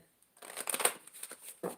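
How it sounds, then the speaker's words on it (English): Tarot cards being shuffled up close, a quick run of papery riffling and flicking bursts after a brief silence, ending with one more short shuffle. "I'm shuffling these cards so we can get the situation going on for the Capricorn man."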